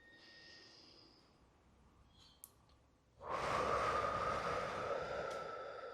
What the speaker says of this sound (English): So let's take a deep breath together.